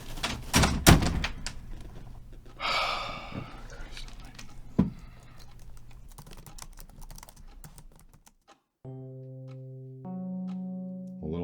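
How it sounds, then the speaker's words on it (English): A door swings shut with a sharp thunk partway through, set among keyboard typing and people talking nearby in an office-like room. "Did you want the door open or shut? Shut would be nice."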